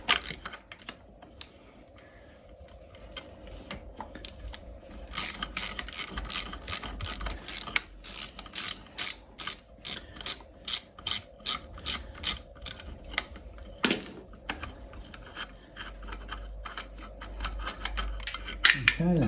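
A socket wrench ratcheting a nut off a Jaguar 2.7 diesel TD V6 engine during cylinder head removal, long runs of rapid clicking pawl strokes, close and steady with brief pauses.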